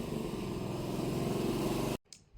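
Motorized tricycles pass on a street, a loud continuous engine drone and rumble close by that cuts off abruptly, followed by quieter background noise.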